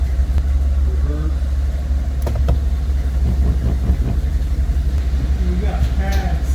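Truck engine with a freshly rebuilt 6L80 transmission idles on a shop lift, a loud, steady low rumble running throughout while people talk over it.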